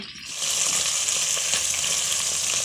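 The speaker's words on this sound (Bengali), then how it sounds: "মাছ ভাজা করছি" Fish fries in oil on a traditional clay stove, producing a loud, dense, steady sizzle that starts after a brief quieter moment and holds evenly, close and alone.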